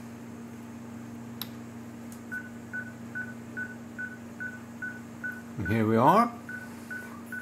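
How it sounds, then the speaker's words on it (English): Caller ID (CAID) signal tones come over a phone loudspeaker as a brief run of short repeated beeps, then a loud rising warbling burst near the end, with a voice speaking briefly. "see the CAID signal coming and going. To hear it, I press F3 to enable the loudspeaker."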